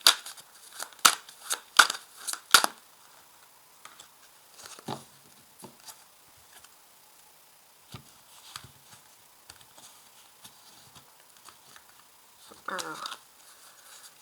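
Cards slapped and laid down on a table in a quick run of sharp taps at the start, then sparser placements and light shuffling, with someone speaking French in between.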